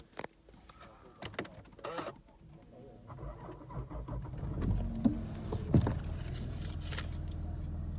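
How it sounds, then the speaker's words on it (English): A salvage Cosworth-engined Caterham 7 with a BDR/BDA engine and 49,000 miles fires up, then settles into a steady, fairly close idle rumble that swells slightly partway through, with scattered clicks and knocks early on. "I've just found the key in it, started it up, and it seems to actually move backwards and forwards."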